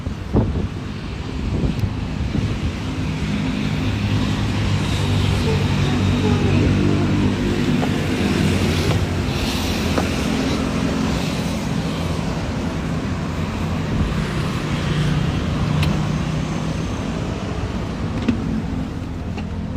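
Car ride with a steady low engine and road rumble plus wind buffeting throughout, continuous and even, with faint speech now and then.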